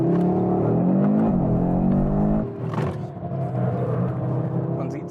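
An Audi RS3 prototype in drift mode accelerates hard, its engine note rising in a strong revving pull before easing off into a rumbling, lower drone as the car turns.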